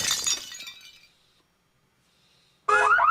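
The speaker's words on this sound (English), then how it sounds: "That's a car burglar alarm." A car burglar alarm bursts on abruptly as a loud warbling electronic tone near the end, after an earlier crash like breaking glass and a stretch of near silence.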